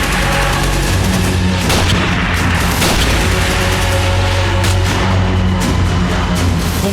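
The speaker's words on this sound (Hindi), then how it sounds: "खूंखार दहशतगर्दों का जत्था ऑटोमेटिक मशीन गन से अंधाधुंध फायरिंग कर रहा था।" Dramatized automatic machine gun fire in a forest firefight at Kupwara, dense and loud throughout, with rattling bursts and booms layered over a continuous rumbling bed.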